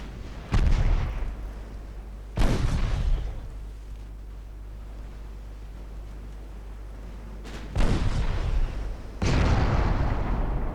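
Heavy naval gunfire and shell hits from a warship battle game set in an 1895 Norwegian campaign: four loud, booming blasts with long rumbling tails, two near the start and two near the end, separated by quieter low rumble.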